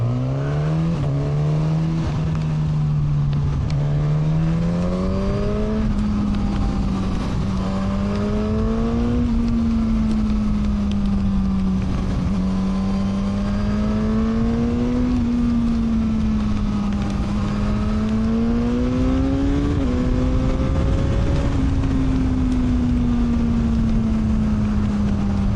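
Suzuki GSX-S1000 naked litre motorcycle being ridden, a steady engine tone rising and falling through repeated accelerations and gear changes amid constant wind rush, heard from the rider's position.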